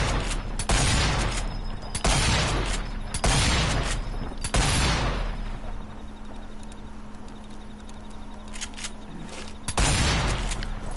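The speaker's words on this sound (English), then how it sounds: "This is the M97 Winchester trench gun, based off the model in 1987 Winchester." An M97 Winchester trench gun fires in the video game Sniper Elite 4, four loud close booming shots in quick succession, then a quiet stretch with mechanical handling, and a fifth blast near the end.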